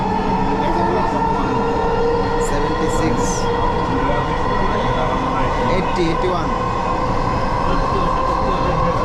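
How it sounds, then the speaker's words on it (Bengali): Loud, continuous rumble and roar of a Dhaka metro train rushing past nearby at about 90 km/h, with brief high squeals; a voice speaks numbers over the noise. "পাশ দিয়ে আরেকটি ট্রেন চলে যাচ্ছে, মুহূর্তের মধ্যে চলে গেল।"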